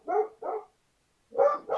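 A dog barks in two quick bursts, a pause, then two more, loud and close in an indoor room with no talking.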